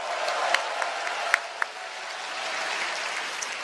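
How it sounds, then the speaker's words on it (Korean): Hands clap warmly for Kim Kyung-soo, a Democratic Party candidate, at a Korean political campaign rally. The applause is a steady, moderate crowd patter with a few sharper claps standing out. "우리 김경수 후보님께도 뜨거운 박수 부탁드립니다"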